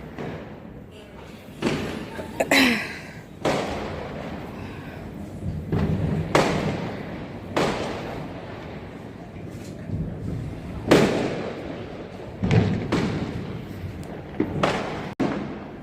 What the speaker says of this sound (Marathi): बाहेर फटाके चालू आहेत